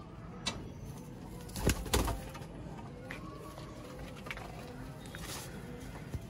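Pigeons coo softly on a rooftop loft, several low throaty calls and a couple of louder nearby coos with faint fluttering and patter, fairly quiet and without talk.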